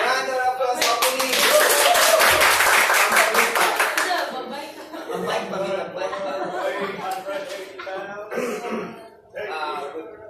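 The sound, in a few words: audience applause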